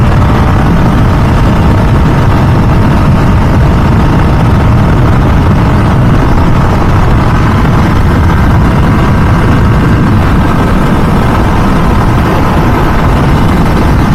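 A 2023 MV Agusta Dragster 800RR motorcycle's 800 cc three-cylinder engine cruising on the road in third gear at around 6,000–7,000 RPM, a loud, constant, dense drone mixed with wind rush and no speech throughout.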